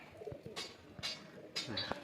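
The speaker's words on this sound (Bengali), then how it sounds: "এটা টিক্কি লাইনের পায়রা, ঠিক আছে? খুব ভালো পায়রা।" Tikki line pigeons in a loft give a few short coos and wing-flutter bursts, close and moderately loud, separated by brief pauses.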